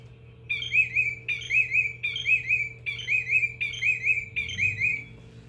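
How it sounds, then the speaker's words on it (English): A willet calling in a reedy wetland, a clear repeated call of six evenly spaced shrill notes, each with a sharp onset and a short trailing phrase, fairly close over a quiet steady background hum. "the reason it's called a willet is because of the sound that it makes"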